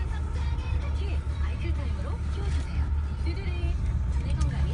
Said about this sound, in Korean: 자, 차량 주행을 시작해 보도록 하겠습니다.